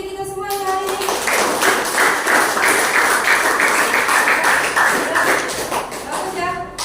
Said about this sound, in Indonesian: Tepuk tangan untuk diri kita semua yang hari ini